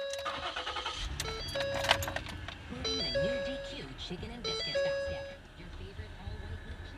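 A Ford Police Interceptor with about 34,000 miles starts up after a gauge cluster swap, sounding a string of repeated electronic startup chimes and beeps over a low engine hum, with a voice speaking nearby.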